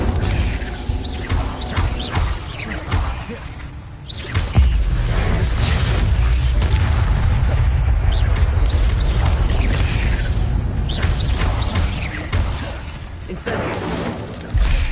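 Incendio fire spell cast in Hogwarts Legacy, a burst of roaring game flame and crackling impact sounds running continuously and loudly, with a voice speaking over parts of it.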